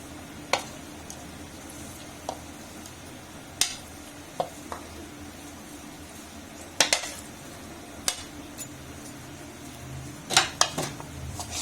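Chopped vegetables and anardana being mixed in a bowl for aloo pakora: soft stirring with occasional sharp spoon clinks against the bowl over quiet background noise.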